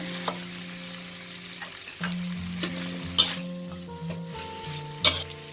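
Pork cartilage stir-fried with curry paste in a pan, giving a busy sizzle with repeated scraping stir strokes and a couple of sharp utensil clacks against the pan, no talking.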